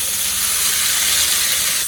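A loud, steady sizzle hisses continuously, close up, as cornbread batter hits very hot oil.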